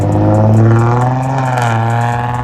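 A car fitted with a ProCharger supercharger and big turbo revs hard as it pulls away from a car meet, its loud, raspy engine roar sustained and close throughout.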